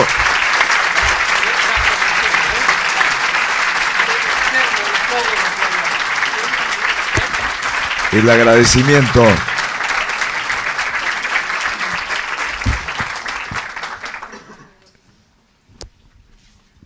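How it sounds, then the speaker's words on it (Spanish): Sustained applause from a university audience at a talk and debate event, loud and steady for about fourteen seconds with a brief voice breaking through midway, then fading to near silence. "Con este aplauso"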